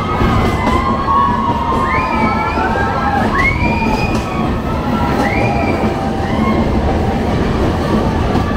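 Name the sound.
passengers shouting as Araku train enters tunnel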